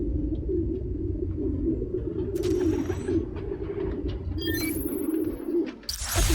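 Pigeons coo steadily in a city park within a video game, a low, soft, continuous warble close by, with a few faint chirps and clicks over the top and no talking.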